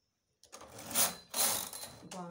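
A domestic knitting machine makes its carriage pass while stitching a gent's sweater design, giving two brisk sliding runs with a rattling, mechanical quality, followed by a softer shorter movement, close and distinct.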